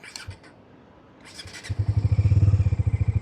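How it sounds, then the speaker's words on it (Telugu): A Bajaj Dominar 250 motorcycle engine ticks over quietly at night, then settles into a loud, steady pulsing idle from the exhaust for the remaining seconds. "మనకి దీని యొక్క ఎగ్జాస్ట్ సౌండ్ అనేది వినడానికి చాలా బాగుంది"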